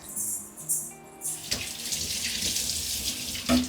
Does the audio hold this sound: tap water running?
yes